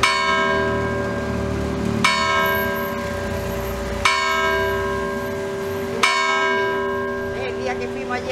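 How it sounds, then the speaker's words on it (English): A church bell in Mijas Pueblo, Spain, rings loud and close, striking in evenly spaced, resonant peals about two seconds apart, each one ringing on and overlapping the next. "Oh, there's the church bell."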